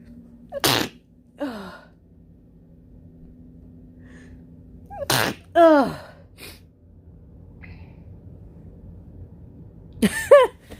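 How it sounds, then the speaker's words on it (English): Three sharp sneezes spaced several seconds apart, each with a quick gasping intake before it and short breathy sounds after, close and loud. "Something has got my sinuses flared up and I can't stop sneezing"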